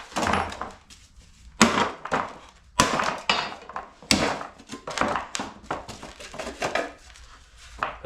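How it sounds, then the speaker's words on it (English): A metal shield is hammered off a BMW E36 coupe rear subframe with about a dozen sharp, ringing metallic blows at an uneven pace, each strike loud and close, with short pauses between. "you can hammer this shield off"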